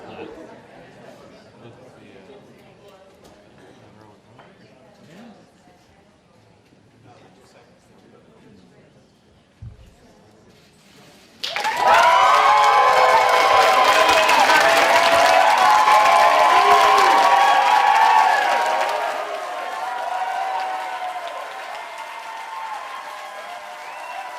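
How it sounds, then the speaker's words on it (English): A large crowd at the State of the Union address in the House chamber rises and bursts into loud, sustained applause and cheering after a stretch of quiet murmuring, tapering slightly toward the end. "Everybody stand up and applaud."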